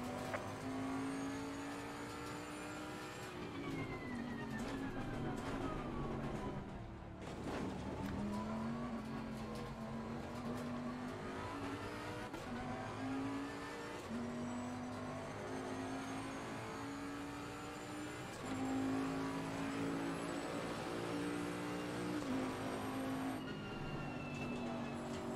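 Porsche race car in the racing game Assetto Corsa Competizione, a high engine whine rising and falling through gear changes, with downshifts and repeated acceleration over a long stretch, fairly distant and without talk.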